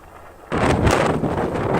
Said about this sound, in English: Very, very windy, gorgeous.